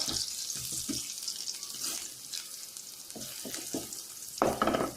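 Chopped garlic and ginger frying in oil in a pan, a light crackling sizzle with intermittent stirring scrapes and clinks, close up, rising briefly toward the end, no voices.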